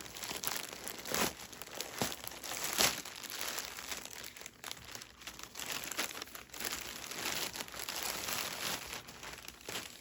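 A plastic-wrapped package of toilet paper is torn open, giving close, irregular crinkling and tearing bursts with occasional sharper rips, heard alone without talk.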